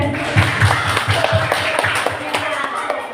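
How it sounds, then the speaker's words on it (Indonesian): A small group claps in a loose, uneven rhythm, with voices talking over the clapping. "ya kasih tepuk tangan dulu"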